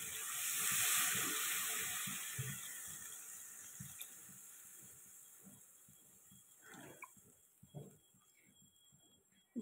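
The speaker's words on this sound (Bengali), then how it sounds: "তো এবার জল দিয়ে দেবো।" Water poured into a hot pan of fried fish curry masala gives a faint hissing sizzle that swells early, then fades into soft bubbling with light kitchen clatter.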